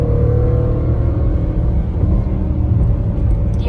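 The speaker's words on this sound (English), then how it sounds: "I like how it sounds. It's just, I like that exhaust note." Deep exhaust of a 2019 Jaguar F-Pace SVR in sport mode, a loud steady rumble from inside the car, holding a sustained note without sharp revs.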